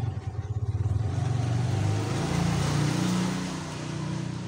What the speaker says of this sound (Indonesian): sebentar ada motor